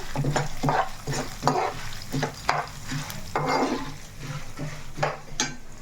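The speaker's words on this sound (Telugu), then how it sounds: "పల్లీలు కూడా ఇప్పుడు వేసేసుకోవాలి ఇదిగోండి మనకి చక్కగా లైట్గా అలా వేగుతున్నాయి కదా" Peanuts frying and being stirred in a pan while making bitter gourd spice powder, with a steady sizzle and repeated scraping strokes of the spoon, close and alone.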